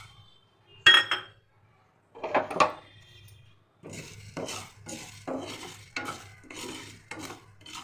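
Ground pepper and cardamom powder frying in a pan, heard as close metallic clinks and scrapes of a utensil stirring in a rhythmic series of strokes.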